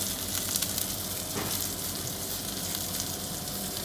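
A cod fillet fries in oil in a pan, giving a steady, close, dense sizzle and crackle that runs unbroken throughout with no voices.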